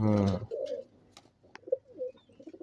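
Pigeons coo softly in Lahore, a few low rounded calls close by after a short burst of a voice at the start.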